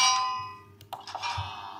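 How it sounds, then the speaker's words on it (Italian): Minecraft bell rung once, a bright metallic ding with shimmering overtones that decays over a second, followed by a few faint soft game clicks. "Possiamo mettere la campana qui"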